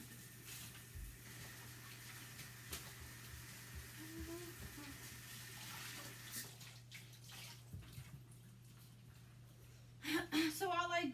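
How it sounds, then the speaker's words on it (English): Water from a sink tap runs in a steady low hiss as a chalk transfer is washed, faint and even, with a few clatters and a louder splashing burst near the end. "I'm just gonna wash this in the sink and then dry it"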